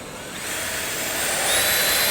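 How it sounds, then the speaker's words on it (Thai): A power drill drills a pilot hole while building a miter saw table, whirring steadily and loudly, its motor pitch rising slightly as it bites in, with no voices over it. "เอาสว่านนำลงไปก่อน"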